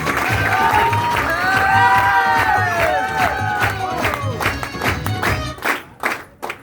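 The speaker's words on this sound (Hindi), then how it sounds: "और हमारे CTC leader mister Bhupendra Sahu के लिए एक बार जोरदार तालियां और चाहूंगा।" Loud applause and cheering from a crowd at a team leader celebration, sustained clapping with shouted cheers and whoops rising over it, then tapering into a few scattered individual claps near the end.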